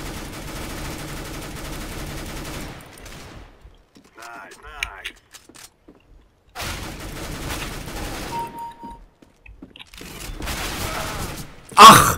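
Bursts of rapid gunfire from Counter-Strike: Global Offensive crackle in separate volleys, broken by quiet gaps, with a few sharp mechanical clicks between them.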